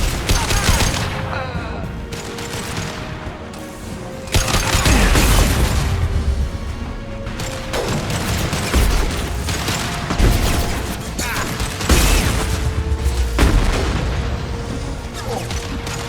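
Dense sci-fi gunfire and heavy booms from the video game Mass Effect 2, with rapid bursts and repeated explosive impacts in a loud, continuous firefight.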